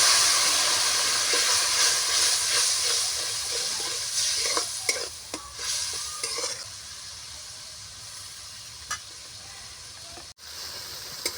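Fish roe simmers in a pan after water is poured in, giving a loud, continuous sizzle and bubbling hiss that gradually quiets, with a few stirring scrapes and clinks.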